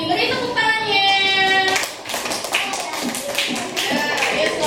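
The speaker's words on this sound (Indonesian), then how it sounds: "Beri tepuk tangannya." Schoolchildren in a classroom break into rhythmic clapping after a voice speaks, loud close bursts of hand claps with a brief pause and then a second round.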